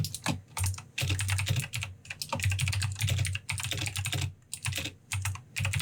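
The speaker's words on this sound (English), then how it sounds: "you can hear my keyboard clacking" Rapid clacking of a computer keyboard, keys struck in quick bursts with short pauses between runs, close and clear with no voices.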